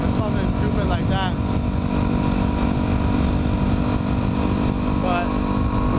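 A dirt bike engine drones steadily while riding on a road, a loud, continuous hum mixed with wind rush, with a brief faint voice now and then.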